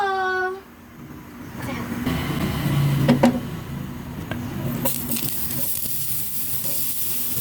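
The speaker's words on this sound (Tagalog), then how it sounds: "igisa na po natin to" Buffalo wings sauté in a pan with a steady, moderately loud sizzle, stirring scrapes and clatter rising in the middle, while people talk intermittently nearby.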